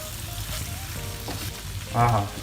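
Rice fries in a pan for a chicken-breast pilaf, giving a low, steady sizzle with a brief louder stir near the end. The sound is close and short, and no one speaks.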